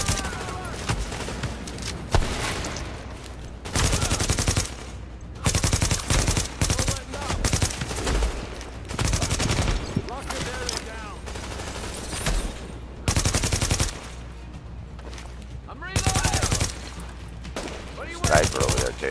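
Gunfire in The Division, rapid automatic bursts repeating in loud clusters separated by short pauses, close and sharp, with a voice talking between volleys.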